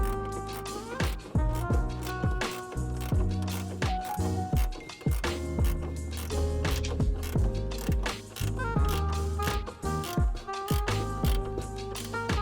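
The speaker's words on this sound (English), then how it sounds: "I do have a ratcheting box wrench, ratcheting 9/16 box wrench" A ratcheting 9/16 box wrench tightens a bolt on a VanUp Razor Rack roof rack, giving close, steady bursts of clicking and mechanical whirring that run nearly the whole time without talk.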